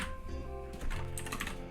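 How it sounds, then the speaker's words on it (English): A cat walks across a computer keyboard, sending a brief, irregular flurry of close key clicks over a steady electronic hum, without voices. "Walking across my keyboard."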